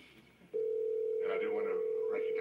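A steady telephone dial tone cuts in on a conference call line during a stadium authority board meeting, holding loud and unbroken over faint room noise.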